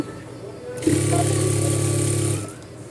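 A sewing machine stitching doubled fabric runs in one steady mechanical whir for about a second and a half, loud and close, with a faint click as it starts and stops.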